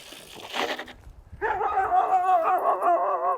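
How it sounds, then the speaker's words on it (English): Dogs on a desert trail in Arizona: a brief distant yip first, then a close, drawn-out whining bark with a wavering tone that holds steady for a couple of seconds, no speech. "I wonder if those dogs are still there."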